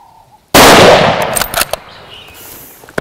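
A single loud rifle shot on an impala hunt in Munyamadzi, Zambia, cracking sharply after a near-silent pause and followed by a long fading echo, with a few faint knocks afterward.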